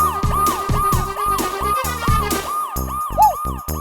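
A police car siren wails loud and close in a repeating rising-and-falling cycle, with a few sharper yelps near the end and no talk over it.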